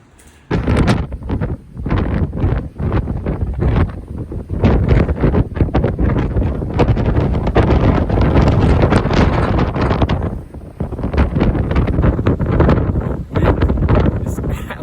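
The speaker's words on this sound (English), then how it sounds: "Wind is absolutely ripping." Strong wind buffets the microphone high on Longs Peak, a loud roaring rush in long sustained gusts with brief lulls, nearly drowning everything else.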